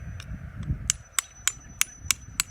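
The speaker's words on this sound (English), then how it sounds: "The mortar is all over the marble, so you won't be able to see the marble until I chisel the stuff off of it." A chisel struck with a hammer chips old mortar off a marble grave marker, a series of about eight sharp, ringing taps at a fairly even pace, close by.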